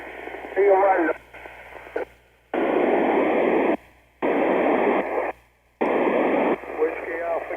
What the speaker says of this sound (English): Who's keying a mic and not talking?